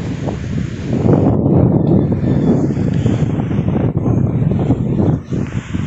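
Strong wind roars steadily into the microphone outdoors at Old Sagay, Sagay City, a dense buffeting rumble with no clear voices.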